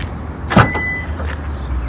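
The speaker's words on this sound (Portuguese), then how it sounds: "O porta-mala dele, abri aqui." The trunk of a Toyota Corolla GLI 2019 being opened, a single brief mechanical clunk of the latch followed by a short whirring release, close and fairly loud over low ambient rumble.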